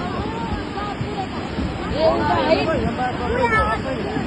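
Floodwater of the Roshi river rushing past, a broad continuous roar with people talking nearby over it.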